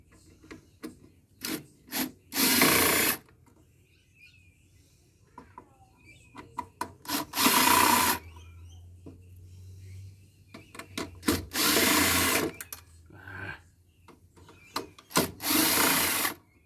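Screws are driven out of a scrapped solar inverter found in a bin: several separate loud whirring bursts from a power driver, each about a second long, spaced by quieter clicks and handling noises.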